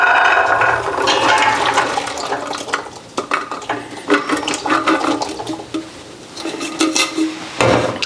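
Mexican hominy is rinsed in rushing water, with a loud, continuous splashing and swirling of liquid close by and light clatter of corn and container throughout.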